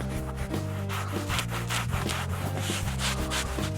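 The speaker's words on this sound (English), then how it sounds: "the scrub brush. And just keep working it over the surface. Scrub brush makes this really effortless." A scrub brush works back and forth over a leather car seat, giving steady, close, rasping strokes in a continuous rhythm.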